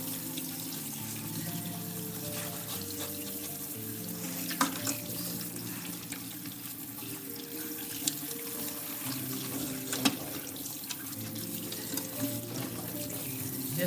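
Tap water runs steadily into a kitchen sink while peeled, deveined shrimp are rinsed for seafood gumbo, a constant moderate splashing hiss with a few faint clinks and knocks from handling, no voices.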